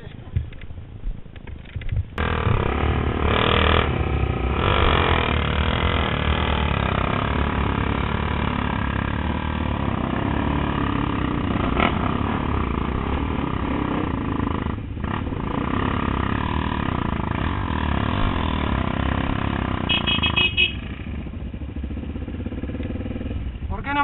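A motorcycle engine idling and revving at a gathering in Ezeiza, a loud steady rumble filling the whole stretch, with people talking over it.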